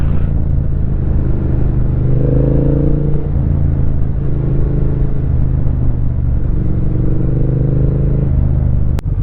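Triumph Bonneville motorcycles ride along a road in the Peak District, a loud continuous engine rumble with rising and falling revs and heavy wind, close to the rider, with no talk.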